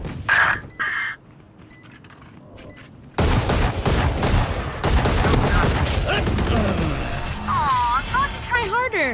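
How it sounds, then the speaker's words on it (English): Rapid Guardian rifle fire in the Valorant shooter on the Breeze map, a burst of loud repeated shots kicking in after a quieter opening, with game effects and occasional voices mixed in. "I am shooting way too fast with that guardian"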